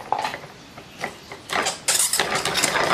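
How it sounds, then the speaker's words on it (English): A mechanical dowel former, a woodworking rod-cutter machine, runs in short bursts of harsh whirring and grinding that start and stop, then grows louder and steadier toward the end. "That was my first time ever having used a mechanical dowel former."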